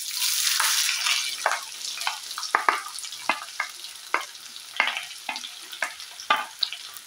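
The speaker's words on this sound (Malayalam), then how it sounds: "ഞാനിവിടെ ഒരു സവോള അരിഞ്ഞത് എടുത്തു വെച്ചിട്ടുണ്ട്, അത് ഇട്ട് കൊടുക്കാം." Sliced onion hits hot oil in a pan and sizzles loudly and steadily, with frequent crackles and stirring scrapes throughout, close up for Kerala-style chicken and pidi cooking.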